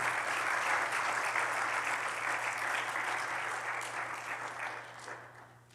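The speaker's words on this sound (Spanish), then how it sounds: "Denle un aplauso al Señor." Church congregation applauding the Lord after a sermon, a steady dense wash of clapping hands that holds strong and then slowly fades toward the end.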